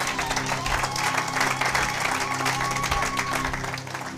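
Steady applause from a church congregation, many hands clapping together over a low musical backing, sustained and fairly even before easing slightly at the end.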